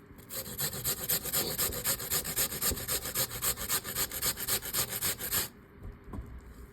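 A potato is rubbed against the fine holes of a metal grater in quick, regular rasping strokes, close and fairly loud, then stops abruptly near the end, leaving quiet room sound.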